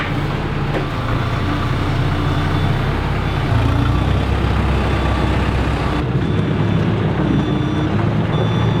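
A farm telehandler fitted with a grab attachment shifts straw bales, its diesel engine rumbling steadily and loudly throughout, with a slight change in tone partway through.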